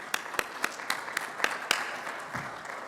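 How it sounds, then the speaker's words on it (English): A conference audience at a sports streaming keynote claps in a brief round of applause, with scattered distinct hand claps rather than a dense roar, fairly quiet and heard from a distance. "Give yourselves a round of applause for that."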